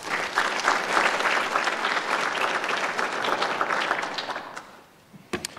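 A conference audience at a terrorism, cybersecurity and international law event breaks into warm, dense applause welcoming a panelist. It swells, holds for several seconds, then fades out with a few last claps.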